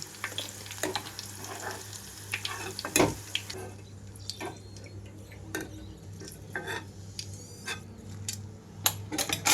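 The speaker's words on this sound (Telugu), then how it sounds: "అలాగే మిగిలిన ముక్కలన్నిటినీ కూడా ఇలాగే వేయించేసుకుంటున్నాను" Bitter gourd pieces, seeds included, fry in a pan with a steady soft sizzle and crackle, broken by occasional clinks and scrapes of stirring.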